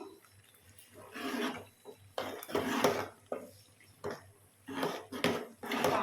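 A spoon scrapes and stirs through thick urad dal payasam in a pot, in uneven wet swishing strokes with brief pauses, close and moderately loud.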